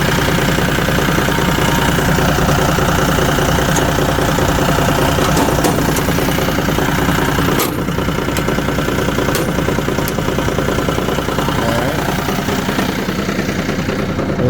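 Vermeer SC48TX stump grinder engine running loud and close at a steady idle, with a constant throbbing rumble and a few faint clicks over it.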